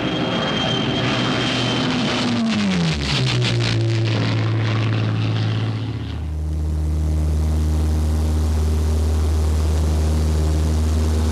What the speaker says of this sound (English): The result was the Spitfire, the killer fighter.